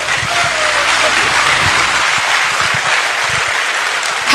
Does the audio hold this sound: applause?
yes